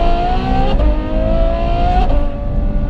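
Ferrari F12 Novitec N-Largo with a straight-through titanium exhaust revving close by, a steady loud engine note that climbs and dips through two brief throttle blips, alone with no talk.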